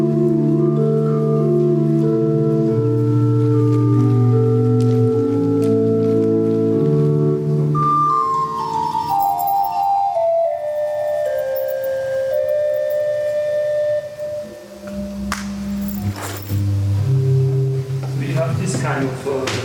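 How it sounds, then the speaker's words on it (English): Wooden flute pipe stop on the church organ at the Basilica Mariatrost, soft sustained tones moving through several held notes and chords, then shifting to lower pitches with room reverberation and no speech. "Kind of flute-like, soft flute-like sound, and this is, let's say, a subdivision of the labial pipes."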